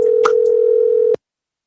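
A single steady telephone voicemail tone, loud and close, holding one pitch for about a second before cutting off abruptly into silence.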